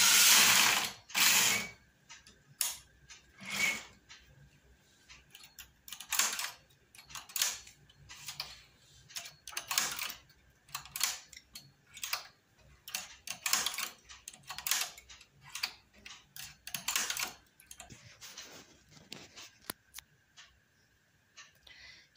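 A domestic knitting machine runs a row across its needles while making a blouse, giving repeated bursts of clicking and rattling carriage noise with brief pauses between passes, close and fairly loud, with no talking.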